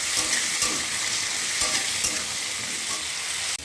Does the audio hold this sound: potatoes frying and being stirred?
yes